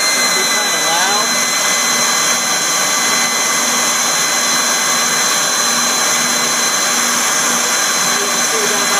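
Airflow flow bench running hard on an LT1 engine cylinder head at 100 thousandths valve lift: a loud, steady rushing roar with a constant whine, unbroken and close for the whole stretch.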